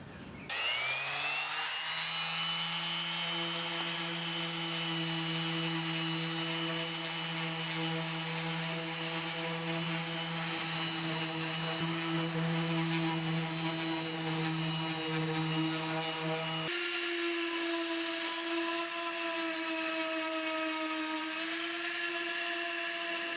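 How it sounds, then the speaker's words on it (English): A steady, high-pitched orbital sander whine drones continuously at close range, sanding body filler on a car with 80 grit sandpaper, its pitch shifting slightly partway through. "I'm gonna use this orbital sander for rough sanding with 80 grit sandpaper"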